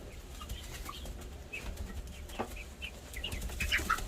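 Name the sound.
young chickens flapping wings in coop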